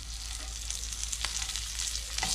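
Jimmy Dean hot sausages sizzle steadily in a Ninja pan, a close, continuous crackling fry with small pops scattered throughout and no voices.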